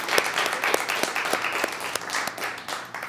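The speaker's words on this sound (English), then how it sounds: "will you send her a round of applause towards Idaho?" An audience claps together in a round of applause sent toward Idaho, a lively crowd of hands with individual sharp claps standing out over the steady patter, moderately close and without talk.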